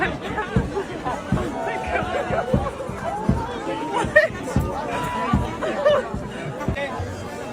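A crowd of people chatters at Stonehenge outdoors, a dense, steady babble of many overlapping voices with nearby speakers standing out now and then.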